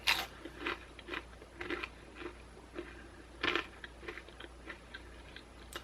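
Crunchy Takis rolled tortilla chips crackle as they are chewed, close to the mic, in a string of short crisp crunch bursts separated by quiet pauses, with no talking.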